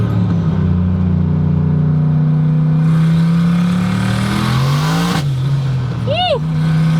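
The engine of an 800HP Silverado-swapped Camaro revs and climbs in pitch, loud and close, then cuts off abruptly; a brief chirping whine follows as it settles.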